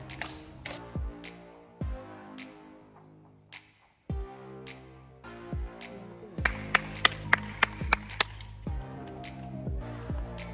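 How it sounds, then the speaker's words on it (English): Sharp hand claps ring out one after another beside Netravali Bubble Lake, also called Budbuda Lake, in South Goa. They come as several loud, spaced slaps, with a faster burst of claps near the end, over music and outdoor ambience. "Alright, let's try and clap now."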